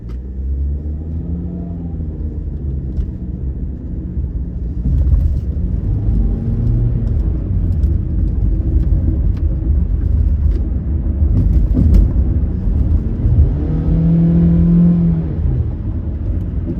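Base-model Hyundai Elantra accelerating in sport mode onto the Pacific Coast Highway, a steady in-cabin engine drone and road rumble that swells as it climbs through the revs, with gear-change dips near the end.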